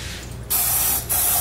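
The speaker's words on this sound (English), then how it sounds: "now we are going to be spraying our muffin tins" Extra virgin olive oil Crisco cooking spray hisses onto muffin tins in two bursts, the second after a brief pause, close and fairly loud.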